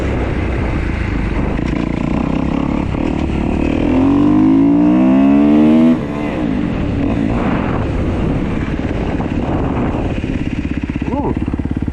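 A 2015 Kawasaki KX250F dirt bike revs close by, its engine rising in pitch as it is ridden, then settling back to a steady running drone, with a voice speaking over the motor.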